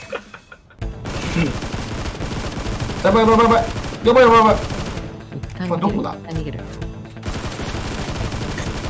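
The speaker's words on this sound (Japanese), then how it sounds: "銃声エグい、銃声エグい。" Gunfire in the Knives Out battle royale game, sustained rattling bursts of shots under excited chatter from players who talk throughout.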